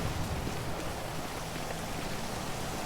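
Steady dense hiss of rain pouring in GTA 5, an even wash of falling water without breaks or other sounds.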